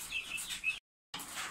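Broiler chicks chirping inside cages, a faint cluster of high, thin peeps repeating quickly, broken by a brief dead gap before the chirping resumes.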